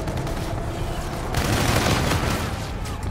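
Continuous gunfire from a Call of Duty: Infinite Warfare multiplayer match, dense overlapping bursts that swell louder midway and keep rattling for the whole stretch with no one talking.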